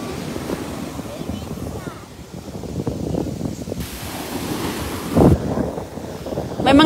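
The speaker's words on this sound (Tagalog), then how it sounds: "Ang sarap pakinggan ang tunog ng karagatan." Ocean waves wash onto a beach with rolling surf and gusts of wind buffeting the microphone, steady and fairly loud, with scattered voices talking over it.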